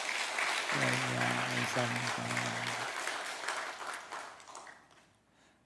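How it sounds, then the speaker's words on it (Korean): A church congregation claps during a Sunday service, warm sustained applause that slowly fades out, with a voice speaking briefly over it early on. "우리 박수 한번 합시다"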